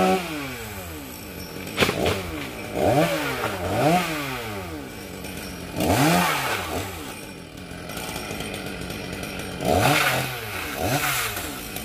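A chainsaw revs up and bogs down repeatedly as it cuts through wood, rising and falling in bursts at close range, at a sawmill.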